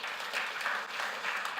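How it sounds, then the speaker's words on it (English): Brief applause from a game-development bootcamp audience, a short, fairly quiet burst of many hands clapping with no talking over it. "And one more round of applause"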